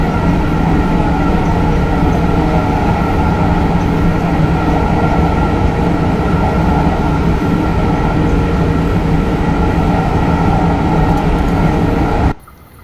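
A Train Simulator Classic train at 140 km/h rumbles steadily and loudly through a tunnel in France, a dense continuous roar with droning tones, cutting off abruptly at the end.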